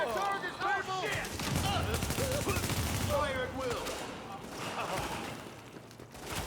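Rapid bursts of video game gunfire crackle through a busy firefight, layered with chirpy electronic effects and ongoing talk, fairly loud and continuous throughout.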